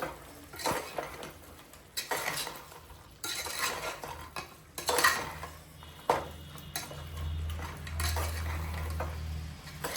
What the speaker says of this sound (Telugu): ఇవన్నిటిని మంచి మిక్స్ చేసుకున్నాము